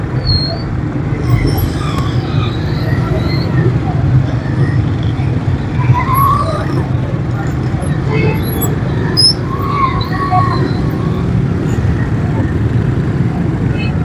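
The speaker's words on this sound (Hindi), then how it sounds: "इस टाइम शदीद किस्म की ट्रैफिक जाम है," Steady road traffic in a heavy jam on the road from Jatlan to Sarai Alamghir, a dense continuous rumble of car and bus engines with faint horn-like tones over it, loud and close throughout.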